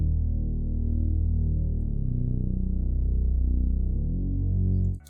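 Sustained Reese bass synth line with overlapping notes gliding into each other through portamento, a thick, steady, loud low drone that shifts pitch smoothly before cutting off abruptly.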